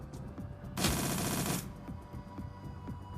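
A single burst of full-auto gunfire in the Shadowrun: Dragonfall video game, a rapid rattle of shots lasting under a second that stands out clearly over quiet background sound.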